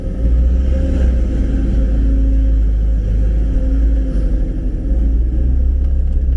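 Deep, loud engine rumble from an Audi R8 V10 sports car, droning steadily with slight swells as it revs and accelerates, close and unbroken over several seconds.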